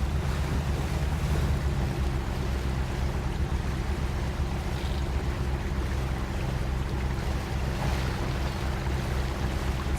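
Heavy off-road truck in the Mudrunner game ploughing through deep water in Blackwater Canyon, a steady wash of splashing and surging water over a low engine rumble, continuous and fairly loud with no talk.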